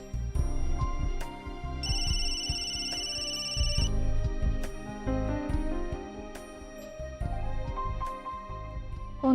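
A phone rings unanswered, its electronic ringtone repeating in a steady pattern over soft background music in a Marathi TV serial, with no talking.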